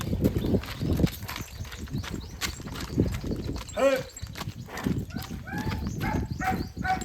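A mare dances at a wedding, her hooves beating out quick, irregular clip-clop steps close by while people talk and call out over them.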